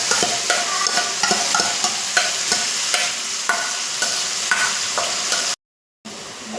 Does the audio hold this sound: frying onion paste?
yes